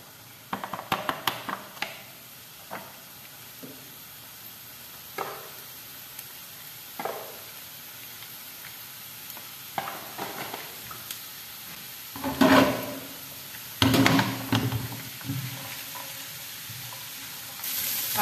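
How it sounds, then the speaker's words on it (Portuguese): Chopped onion fries in a pan with a soft sizzle, broken by scattered stirring scrapes and clinks, including a few louder bursts near the end. "Agora que a cebola já deu uma boa fritada aqui"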